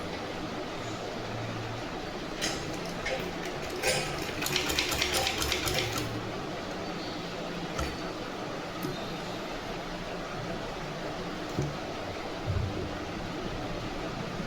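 Sewing machine stitching fabric using a continuous stitching method: a short run of rapid mechanical ticking, moderately loud, with a few isolated clicks later over a steady noisy background.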